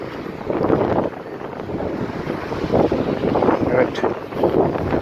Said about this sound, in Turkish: Denizimiz bugün biraz dalgalı.